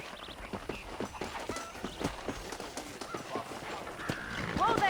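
Horse hooves clip-clop across open ground in the western game Red Dead Redemption, a steady run of close hoofbeats mixed with honking animal calls and brief voices.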